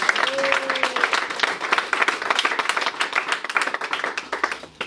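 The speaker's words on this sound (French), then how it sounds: "Est-ce qu'on peut acclamer la parole de Dieu?" A church congregation applauding, a dense, steady stretch of clapping from many hands that tapers off toward the end.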